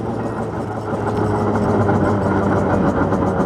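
A derestricted moped engine running hard, its piston strokes forming a continuous, fairly loud mechanical drone with a steady low pulse and no speech.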